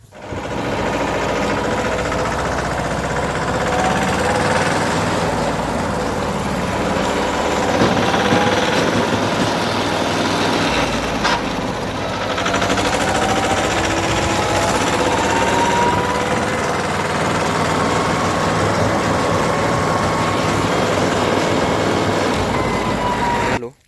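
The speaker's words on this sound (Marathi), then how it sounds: "ट्रॅक्टर ट्रॉली एक साईडला पार्किंग केली आपल्या घरासमोर" A tractor engine runs loudly and continuously at close range, a steady rattling, chugging drone with no pauses.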